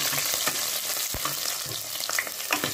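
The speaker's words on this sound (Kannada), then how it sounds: "ಬೆಳ್ಳುಳ್ಳಿ ಸ್ವಲ್ಪ ಫ್ರೈ ಆದಮೇಲೆ" Garlic and dried red chillies fry in hot oil for sambar, a soft steady sizzle with light crackles and occasional stirring clicks, faint and close, with no speech.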